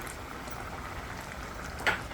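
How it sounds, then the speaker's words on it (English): Pineapple jam with added lemon juice boiling in a pot, giving a soft, steady bubbling hiss with a brief louder pop near the end. "We're gonna give it 20 to 35 minutes to boil."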